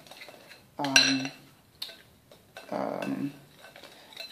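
Pancake batter being mixed with cocoa powder in a bowl, giving a few short bursts of clinking, scraping utensil-against-bowl strokes separated by quiet pauses.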